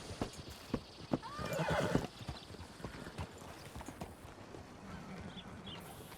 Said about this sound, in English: Welcome to you and your horse.